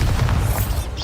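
Confringo blasting spell going off in Hogwarts Legacy, a dense low booming burst that rumbles for about a second, loud and close with no talk over it.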